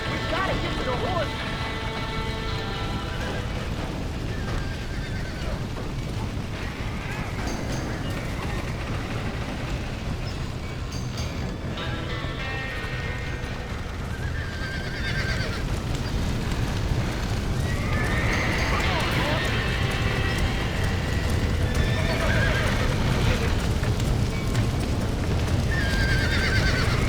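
Horses whinny and neigh amid a chaotic burning-stable scene in the video game Red Dead Redemption, under continuous loud roaring noise, shouting voices and scattered hoof movement.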